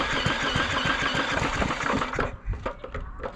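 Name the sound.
engine being cranked, trying to start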